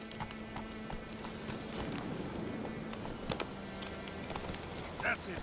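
The horse Roach's hooves clip-clop at a steady walking pace in The Witcher 3, close and rhythmic, with the rider's voice talking over the hoofbeats.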